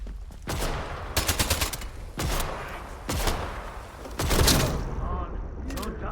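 Gunfire in the video game Atomfall, a series of sharp bursts and rapid volleys spaced across the moment, loud and close, with game sounds around them.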